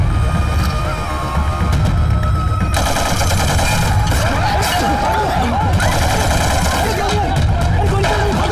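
Dense, overlapping gunfire from a shootout in an action movie crackles continuously, with scattered shouting mixed into the din.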